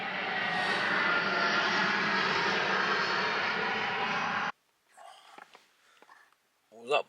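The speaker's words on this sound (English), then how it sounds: "Let's listen to this plane as well." A loud, steady jet roar of a large airplane passing overhead, heard from inside a parked car in Sydney, that cuts off abruptly, followed by quiet sniffing and brief talk.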